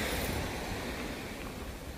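Sea waves wash against the shore near the casino area, a soft, continuous surf hiss with light wind, fairly quiet and even, with no voices.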